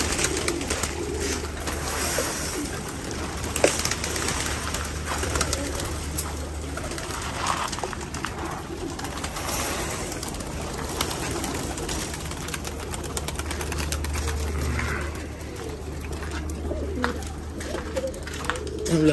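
Domestic pigeons coo steadily at close range inside a loft, a continuous low murmuring layered with soft calls and faint wing and shuffling noises throughout.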